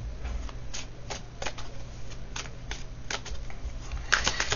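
Playing cards being shuffled and drawn, a series of crisp riffling bursts and snaps spaced through the clip, close and fairly quiet over a low steady hum, ending in a denser flurry of card sounds.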